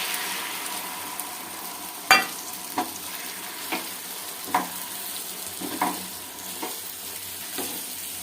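Liver curry (gile mete) sizzles steadily in a pan after water has been poured in, with scattered sharp clicks and scrapes of stirring against the vessel.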